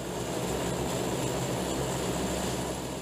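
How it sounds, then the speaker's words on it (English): Stealth jet's engine spooling up via a GPU-powered starter motor, a constant loud roaring whine with a low rumble underneath, steady and unbroken, no voices. "The GPU powers the starter motor, which fires up the first engine"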